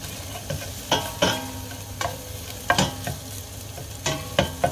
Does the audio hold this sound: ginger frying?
yes